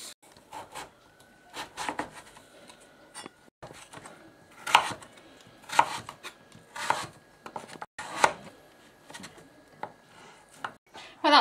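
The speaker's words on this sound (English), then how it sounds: "Cut piece off and then just use a veg peeler and it comes off quite easily." Butternut squash being cut and stripped with a vegetable peeler, giving a series of close, irregular scraping and knife strokes with short pauses between them, and no voices.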